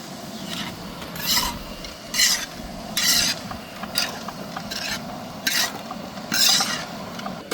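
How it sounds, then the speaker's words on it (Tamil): Greens (thandu keerai, amaranth stems) being stirred in a pan while sauteing, giving repeated scraping, rasping strokes in an irregular rhythm, close and fairly loud, with no talking. "நல்லா கலக்கி விடணும் நீரை நல்லா வதங்கணும்"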